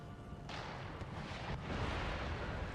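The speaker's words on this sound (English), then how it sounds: "The cannon is currently breaking down the wall, and I imagine it's shooting" A cannon in a strategy war game bombards a defensive wall, producing a dense, continuous rumble of booming impacts and bursts at moderate distance, with no speech.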